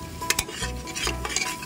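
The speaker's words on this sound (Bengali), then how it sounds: "মশলাটা কষাতে কষাতে আমি এর মধ্যে দিয়ে দিয়েছিলাম লঙ্কা গুঁড়ো, হলুদ গুঁড়ো, জিরে গুঁড়ো" Spice paste sautéed and stirred in a pot for a country chicken curry, with rhythmic scraping strokes of a utensil over a steady sizzle, close and fairly loud, no speech.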